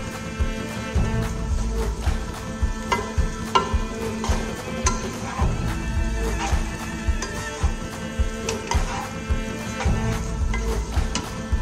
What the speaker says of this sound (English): we need to take our spatula and give it a nice mix in low flame only